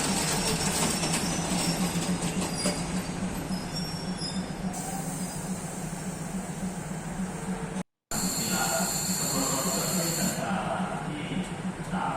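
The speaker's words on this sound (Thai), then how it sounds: "เป็นขบวนมาจากอุบลราชธานีเหมือนกันค่ะเพื่อนๆเตะมา สุดสายปลายทางที่นครราชสีมาค่ะ" A train arriving at Thanon Chira Junction station in Nakhon Ratchasima, Thailand, on a service from Ubon Ratchathani, rumbles steadily with a low engine drone and hissing, wheels grinding along the track, a brief dropout partway through.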